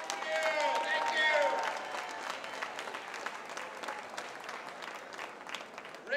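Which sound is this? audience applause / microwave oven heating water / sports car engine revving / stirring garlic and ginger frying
audience applause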